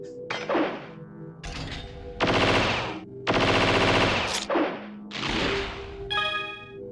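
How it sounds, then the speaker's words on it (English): Dual guns fire in the action RPG .hack//G.U. Vol. 3 Redemption, loud rapid bursts of shots in several distinct volleys with short pauses between, ending on a brighter metallic ring. "Acquire a new weapon, the dual guns"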